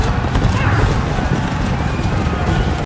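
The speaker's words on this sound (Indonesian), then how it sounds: "Pasukan berkuda dari Korea dengan gagah berani memilih menyerang" Cavalry horses charge in a Korean war film, a loud, dense rumble of galloping hooves with occasional neighs that runs continuously before cutting off abruptly.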